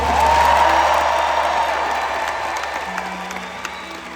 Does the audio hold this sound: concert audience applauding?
yes